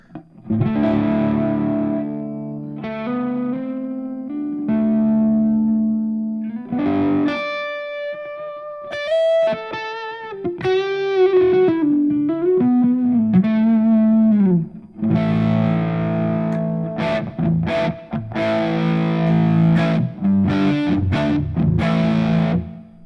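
Heavily distorted electric guitar through a Mosky M series germanium overdrive pedal, playing sustained chords and bending single-note lines, loud and continuous with a gritty, saturated tone.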